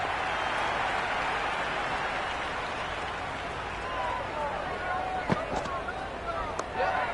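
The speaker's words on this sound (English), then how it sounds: "The crowd is electric right now." Steady crowd roar fills a Cricket 26 match on PS5 between RR and MI, a dense continuous wash of stadium noise with a few sharper bursts near the end, while a commentator-style voice talks over it.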